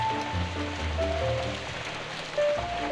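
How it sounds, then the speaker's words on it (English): Rain falls steadily on a garden in Somerset, a constant wash of patter with no talking. "This is rain"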